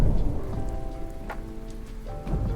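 Steady rain pattering on a surface, continuous and fairly loud throughout, with a faint tonal hum in the background and a few brief bumps.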